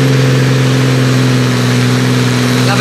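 Engine of a pulling tractor running an AIFO industrial engine at the Trecasali 2019 tractor pull: a loud, close, steady mechanical roar with strong low droning tones, holding constant throughout.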